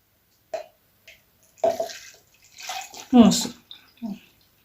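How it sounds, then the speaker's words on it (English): Half a liter of milk poured into a pot on the heat, heard as short, separate gurgling and splashing bursts of liquid, close by and fairly quiet, with silence between them. "On the heat, I'm going to be pouring my half a liter milk in the pot."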